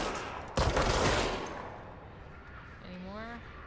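Gunfire in the video game Control, a single loud burst near the start that fades out, followed by a short whine-like tone, with a player's voice faintly present.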